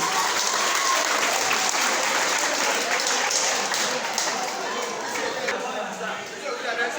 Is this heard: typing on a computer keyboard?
no